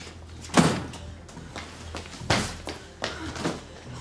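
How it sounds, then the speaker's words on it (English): A door is shut in an action film scene, one sharp thud followed by several duller knocks and bumps at close range, with quiet room noise between them. "Shut the door."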